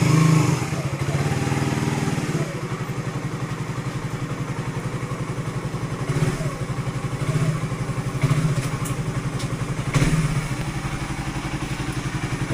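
A motorcycle engine idles steadily and close by with a chugging, clattering rumble, briefly revving a few times, and no voices are heard.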